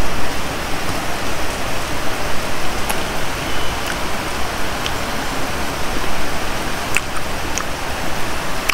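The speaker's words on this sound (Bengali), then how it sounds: "2-3 ঘন্টা ধরে বৃষ্টি হচ্ছে" Heavy rain pours steadily during a rainy day in a village, a dense, even wash of close patter and spatter on surfaces with occasional sharper drops, continuous and without voices.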